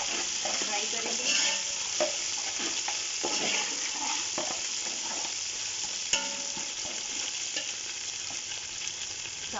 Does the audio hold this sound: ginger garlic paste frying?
yes